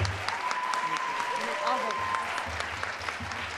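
An audience at an Educator of the Year award ceremony applauds the winner, Miss Barton, with steady moderate clapping and some voices over it.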